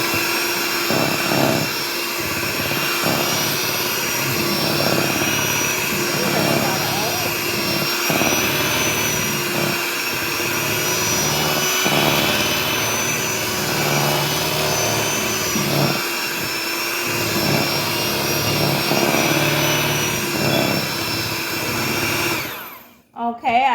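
Electric hand mixer blending pumpkin cake batter from a boxed mix with four eggs in a home kitchen, a loud steady whirring drone that runs unbroken for over twenty seconds and cuts off abruptly at the end.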